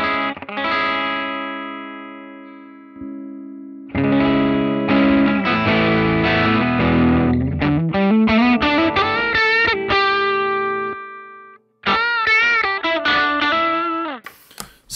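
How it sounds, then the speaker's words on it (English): Electric guitar played through distortion on a Line 6 Helix with a high-pass filter, sustained chords and then quicker picked notes and bends, loud and alone, separated by brief silences. "HP filter, higher values result in tighter distortions and thinner cleans, lower values, looser distortion, warmer cleans."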